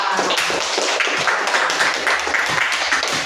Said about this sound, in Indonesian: Beri tepuk tangan untuk Samantha.